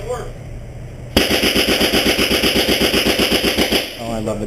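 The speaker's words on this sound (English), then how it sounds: "Oh, I love the grease gun." An M3 grease gun submachine gun fires a sustained, fast, even automatic burst at a range, loud and close, lasting nearly three seconds after a quieter stretch, with a soft voice or murmur around it.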